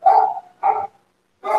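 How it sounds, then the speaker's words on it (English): A dog barks three times close by, two quick loud barks followed by a pause and a third, with silence between them. "My dog's already answering the question."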